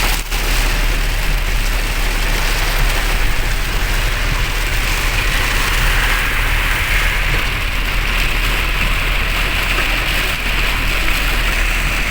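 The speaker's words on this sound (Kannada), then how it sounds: "ಮಳೆ ತುಂಬ ಜೋರಾಗಿ ಬರ್ತಾ ನಮ್ಮ ವಾಯ್ಸೇ ಕೇಳಿಸ್ತಾ ಇಲ್ಲ ಅನಿಸುತ್ತೆ" Heavy monsoon rain pours in a loud, unbroken hiss, with a faint low engine hum beneath it, as from a vehicle on the road.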